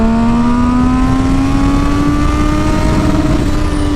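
A Triumph Street Triple motorcycle fitted with a Yoshimura exhaust roars loud and steady as it pulls hard through a gear, its pitch climbing smoothly, with an up-close engine drone and no talking.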